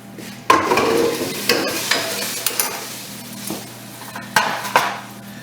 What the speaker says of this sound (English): Hot pan going in the sink.